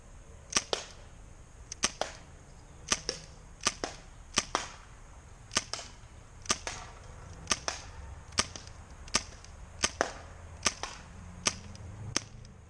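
A Daisy 74 BB gun fires about a dozen sharp, snappy shots spaced roughly a second apart, each a crisp crack with a short tail, fairly close and clear over a quiet outdoor background.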